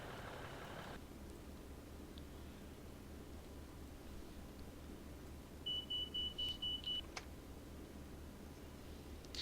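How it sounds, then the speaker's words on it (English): A class 153 diesel train engine starting in Train Simulator 2016, with a steady low rumble and a short series of rapid electronic beeps in the cab, all faint and without talk. "Start the engine up, might be a good idea."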